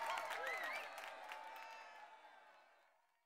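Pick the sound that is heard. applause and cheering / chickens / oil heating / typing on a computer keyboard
applause and cheering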